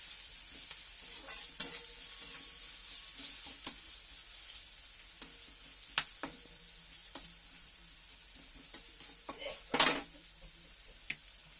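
Sliced bitter gourd frying in a pan with a steady soft sizzle, broken by occasional scrapes and clinks of a spatula stirring it, fairly quiet with no talking.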